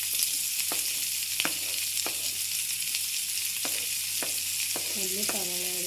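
Onion, crushed ginger and garlic fry in hot oil with a constant loud sizzle, close by, punctuated by sharp clicks and scrapes of a spoon stirring the pan, with no talking.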